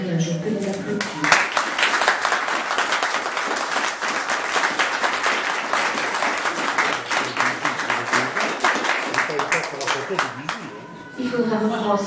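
Wedding guests at a civil marriage ceremony applaud the newly declared couple: dense, steady clapping for about ten seconds, with a voice speaking briefly just before it starts and again as it fades.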